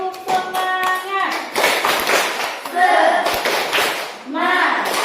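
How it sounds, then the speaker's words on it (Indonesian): Children clap together in a short rhythmic pattern, sharp claps mixed with excited young voices chanting and calling out between them. "kita lakukan tepuk semangat"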